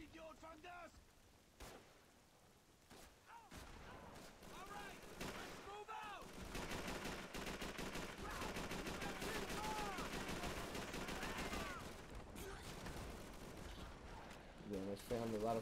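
Sustained gunfire and explosions fill a Call of Duty 3 video game battle, a dense continuous rattle that swells and holds, with shouted voices in the mix early on.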